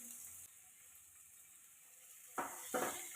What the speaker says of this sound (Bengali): তো আমি এখানে একটু হালকা করে নেড়ে আলুটাকে ভেজে নিচ্ছি